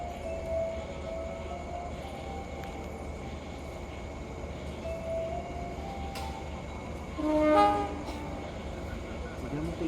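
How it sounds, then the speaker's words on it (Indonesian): Kahuripan 273 passenger train pulling into track 2 at Sidareja station, heard as a steady rumble with a brief horn sounding near the end and faint announcements or voices in the background. "kereta api Kahuripan 273 dari arah Blitar menuju Kiara Condong masuk jalur 2 stasiun Sidareja"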